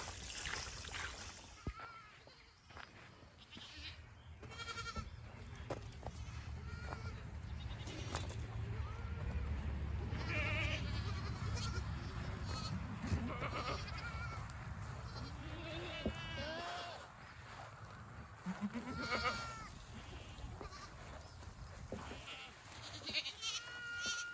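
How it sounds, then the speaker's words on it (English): Goats bleat in a goat pen full of mother does and their young kids, with many overlapping calls of varied pitch, some near and some farther off, over a steady background murmur. "So up here at the goat pen with all the mamas and babies"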